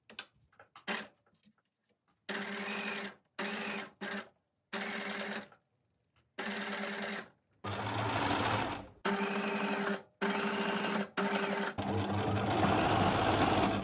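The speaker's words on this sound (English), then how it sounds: "I'm going to sew them that way, but have the sample this way and just see what they go like falling down" A sewing machine stitches through fabric circles in repeated bursts of rapid mechanical running separated by short pauses, steady and close, with no voices.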